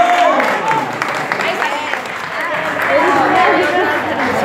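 Audience applause at a live concert tribute in La Cautiva, Salta, a dense wash of clapping and cheering crowd, with voices and whistles mixed through the steady noise.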